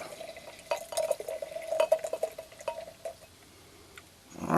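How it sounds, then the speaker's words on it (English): Beer poured into snifter glasses, a steady liquid trickle with small splashes and glassy clinks for several seconds, ending in a louder gush near the close. "we'll get this poured in the snifters here"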